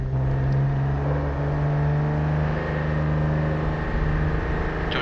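A racing car's engine held at about half throttle on the Suzuka circuit in a racing game, a steady droning whine with a strong sustained tone and even revs, loud and close throughout with no talking.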